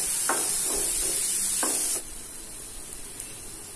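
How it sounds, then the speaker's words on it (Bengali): Chopped onion, ginger and garlic sizzle in hot oil in a pan for fish chops, with a steady close hiss and a few soft stirring scrapes; the frying grows noticeably quieter halfway through. "একটু ভাজা ভাজা হয়ে আসলে আমি আদা কুচিটা ও রসুন কুচিটাকে দিয়ে লালচে করে ভেজে নেব।"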